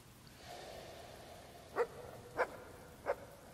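Dog in the video game Fable 2 giving three short, soft snorting barks or huffs spaced evenly apart, over a faint low game ambience.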